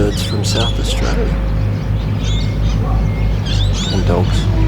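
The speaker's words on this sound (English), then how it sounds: "So what you're hearing is birds from South Australia" Birds calling at a riverfront in Morgan, South Australia, with scattered chirps and calls over a steady low hum, and a voice talking throughout.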